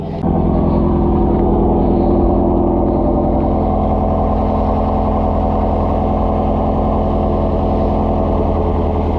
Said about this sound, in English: hit the switch here, which just opens up the exhaust and just lets the whole car breathe